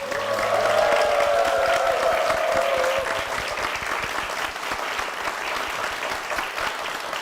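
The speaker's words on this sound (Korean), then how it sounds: "우리 담임 목사님과 교회를 위해서 힘찬 박수 부탁드리겠습니다" A church congregation at Pyeongtaek Seonggok Church claps warmly for the senior pastor, a full, even burst of applause over a sustained organ or keyboard tone that fades after a few seconds, the clapping carrying on alone.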